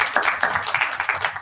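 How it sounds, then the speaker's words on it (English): Applause for an honoree at an international conference on diversity, equity, inclusion and belonging, a short burst of steady, fairly loud clapping from an audience with no voices over it. "We have give a huge applause to him once again."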